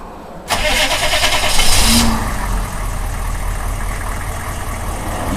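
A 1994 Chevy pickup with a 6.5-liter turbo diesel engine cranks briefly, catches and fires up loudly, then settles into a steady rough diesel idle up close, with no talking.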